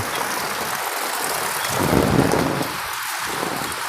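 Heavy rain pours down on a rural village market in Laos, a dense steady hiss of drops on surfaces that swells briefly in the middle, with no talk.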